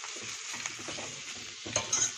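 Spinach chicken curry stirred in a sizzling pan, a steady fry hiss with soft scraping strokes of the spoon throughout and a couple of brighter metallic clinks near the end.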